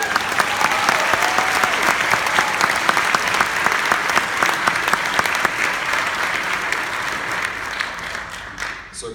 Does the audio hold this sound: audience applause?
yes